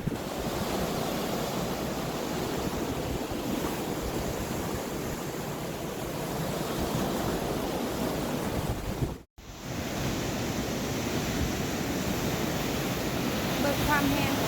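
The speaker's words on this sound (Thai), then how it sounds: "มันไหลมาจากน้ำตกเต็มเลย" Water pours from a waterfall during a storm as a steady, loud roar of broadband rushing noise. Wind buffets the microphone, and a momentary dropout cuts the sound near the middle.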